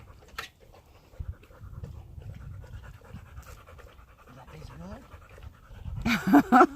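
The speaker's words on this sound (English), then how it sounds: "She's a Rottweiler Labrador mix." Rottweiler Labrador mix dog panting at a dog park, soft rapid breaths under nearby conversation, with louder bursts near the end.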